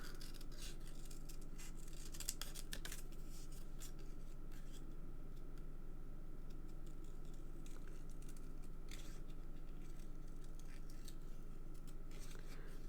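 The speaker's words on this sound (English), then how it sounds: "I can never fussy cut designer series paper out as good as I can fussy cut my other items out" Scissors fussy cutting designer series paper for a birthday card: soft, close snips and paper rustles repeating irregularly over a faint steady background hum, with no talk.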